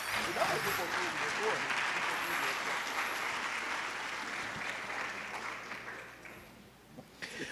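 A church congregation applauds after a Bible reading at a sermon, a dense, steady wash of many hands clapping that holds loud for several seconds, then thins and fades near the end.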